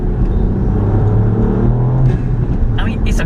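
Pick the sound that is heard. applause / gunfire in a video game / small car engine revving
small car engine revving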